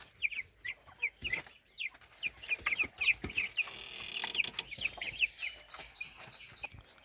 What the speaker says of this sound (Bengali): দেখেন টাইগার মুরগি, লালগুলা আর এই সাদাগুলা ব্রয়লার।